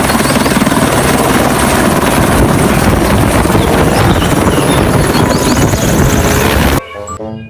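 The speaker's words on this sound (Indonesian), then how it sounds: "Yang ini pesawat helikopter teman-teman." A toy helicopter whirs loudly and continuously with a rapid buzzing rotor chop, close to the microphone, then stops abruptly near the end, leaving brief faint clicks.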